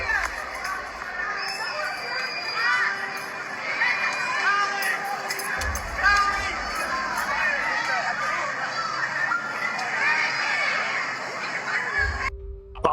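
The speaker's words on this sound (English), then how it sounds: "y'all heard those screams" Crowd of people screaming and shouting in the aftermath of an attack on protesters, a continuous chaotic wash of overlapping distressed voices with cries rising and falling throughout, heard at moderate distance.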